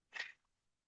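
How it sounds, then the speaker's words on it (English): A single short sneeze bursts out once, fairly close and moderately loud, then falls silent, with no talk around it. "Oh, excuse me, I'm going to sneeze."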